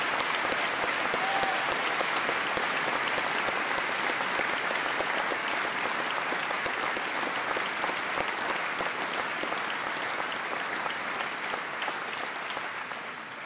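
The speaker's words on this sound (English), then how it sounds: "I think she deserves another round of applause for her service." An audience at a school speech day applauds continuously, a dense, sustained wash of clapping that fills the room and tapers slightly toward the end.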